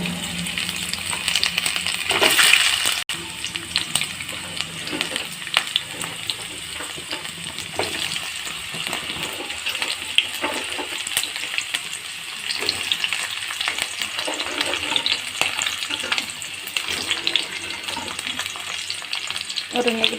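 Dried elephant apple pieces frying in hot oil for an Assamese pickle, a continuous close sizzle with crackling bursts and occasional stirring or clatter, loudest early on then settling into a steady fry.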